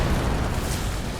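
A bomb blast in the game World of Warcraft during a raid, a dense rumbling boom that fills the whole clip at steady loudness, with no talk over it.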